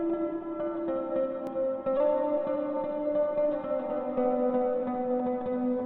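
A heavily effected guitar, run through amp reverb, distortion and Valhalla Room reverb, drones on with thick distortion and washy reverb, its sustained tones smeared into a spacious, eerie wash at steady volume.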